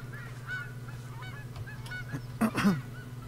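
Geese honk in a medieval-set video game, a few scattered calls early and then a louder pair of honks close together near the end, over a low steady hum.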